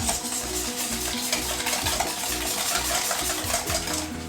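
Homemade Big Mac sauce being whisked with a teaspoon of vinegar in a bowl, a steady rhythmic scraping and swishing of the whisk, close and continuous.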